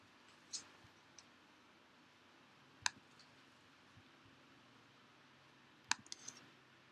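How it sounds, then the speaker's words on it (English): Sparse clicks from a computer keyboard as a single search keyword is typed, a few sharp isolated taps spaced seconds apart over a quiet room background, no talking. "just typing one keyword."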